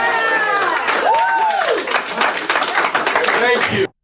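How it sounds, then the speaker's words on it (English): A family clapping in a courtroom at a sentencing, dense applause with raised voices over it that stops abruptly. "the Salter family clapped with joy as Lang was sentenced"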